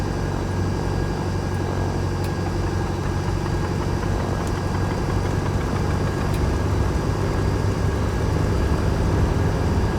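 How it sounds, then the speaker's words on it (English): The right engine of a Beechcraft Duchess 76 twin in the X-Plane 11 flight simulator drones loud and steady, a continuous mid-pitched engine hum with no voices. "Now we can start the right engine."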